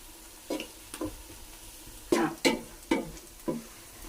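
Garlic, ginger and green chilli sautéing in hot oil for beef pickle, heard as a handful of short sizzling bursts as the pan is stirred, spaced irregularly over a quiet background.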